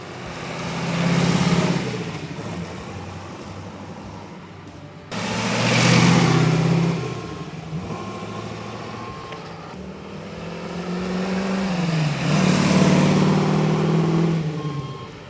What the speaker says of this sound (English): we're going to run this up and down the road a couple of times